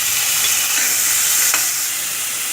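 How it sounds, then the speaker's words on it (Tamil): Shallots, green chilli and tomato sautéing in a pan for thoothuvalai soup, an even close hiss of sizzling with one brief stir partway through. "அடுத்து நம்ம வெட்டி வச்சுருக்க தக்காளியையும் ஆட் பண்ணிக்கோங்க"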